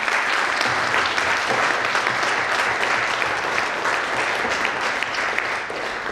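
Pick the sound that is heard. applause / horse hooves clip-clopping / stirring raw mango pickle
applause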